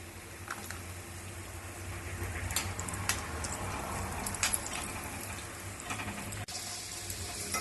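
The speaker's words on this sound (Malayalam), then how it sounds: "അണ്ടിപ്പരിപ്പിന്റെ കളർ മാറി തുടങ്ങുമ്പോൾ ഇതിലേക്ക് കുറച്ച് ഉണക്ക മുന്തിരിയിട്ട് വറുത്തെടുക്കാം." Cashews and raisins frying in ghee in a pan for wheat payasam, a soft steady sizzle with occasional brighter crackles and light stirring scrapes, close and alone.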